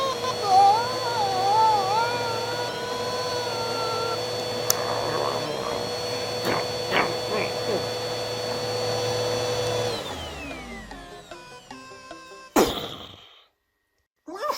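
A vacuum cleaner drones steadily for about ten seconds, then winds down with a falling whine before a sharp clatter and brief silence.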